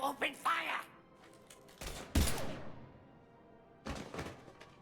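Sci-fi game weapons open fire in a tense standoff, with a couple of heavy, punchy shots and a later burst cracking out between faint ambient hum. Voices are heard briefly at the start.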